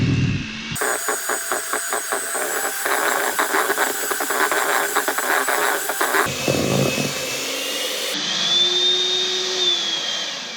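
Peanut butter cookie dough beaten in an electric mixer, a loud, close whirring motor with a rapid rhythmic chop that shifts speed partway through, no talk.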